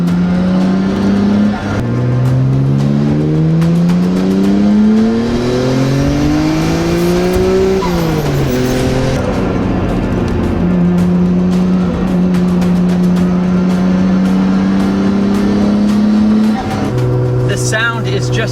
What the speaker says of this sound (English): Sound is just a Japanese symphony of 6 cylinders firing in a straight line.